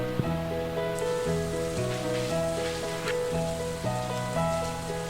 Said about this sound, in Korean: 오늘은 예정대로 비가, 오, 비가 오고 있군요